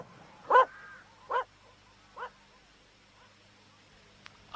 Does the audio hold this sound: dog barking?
yes